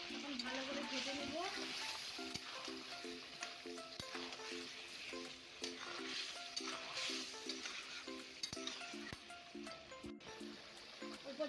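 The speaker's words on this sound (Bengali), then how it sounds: "এখন ভালো করে ভেজে নেব" Mutton fries in a pan with a steady close sizzle and occasional stirring scrapes, a continuous crackling bed under intermittent background talk.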